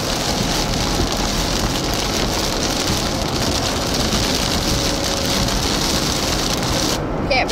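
Hail and rain hammer down during a severe Illinois thunderstorm, a dense, loud, unbroken roar that holds steady throughout.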